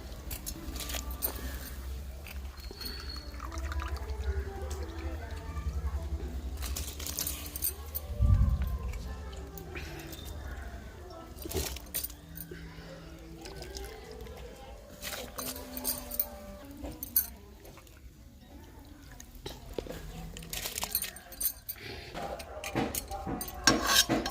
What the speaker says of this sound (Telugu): ఎసురు వాటర్ అనేది బాగా మరుగుతూ ఉన్నాయి కదా బియ్యం కూడా నానబెట్టేసుకున్నాం కదా పోసేసుకున్నాం బియ్యం అయితే